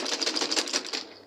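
Sewing machine stitching a seam on a blouse, a fast steady clatter of needle strokes running close and fairly loud for about a second before easing off.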